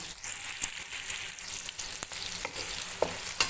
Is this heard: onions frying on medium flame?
yes